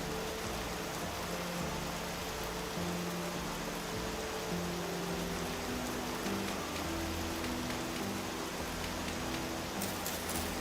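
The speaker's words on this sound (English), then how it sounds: "It's raining over here" Steady, dense rain hiss from the weather in the survival video game Vintage Story, an even wash of falling rain that stays constant throughout with no talking.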